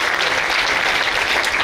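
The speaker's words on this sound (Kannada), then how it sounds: "ಅವರಿಗೊಮ್ಮೆ ಜೋರಾಗಿ ನಾವು ಚಪ್ಪಾಳೆಯನ್ನು ತಟ್ಟಬೇಕಾಗ್ತದೆ" An audience at a Hindu gathering at Mangalore University claps loudly together, dense steady applause filling the whole moment with no break.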